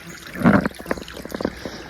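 Water trickles and gurgles over bedrock in a shady gully, with a close, irregular run of small splashy bursts for a couple of seconds.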